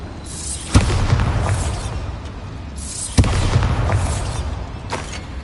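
Two heavy explosions from the Bombarda spell in Hogwarts Legacy, each a sudden loud blast trailing into a long rumbling roar, spaced a few seconds apart.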